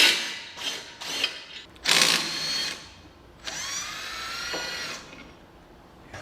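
A power tool works on the upper ball joint bolt of a 2024 Mazda CX-90. Several short, loud, close bursts are followed by a longer whirring run that winds down.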